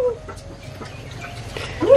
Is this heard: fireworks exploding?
no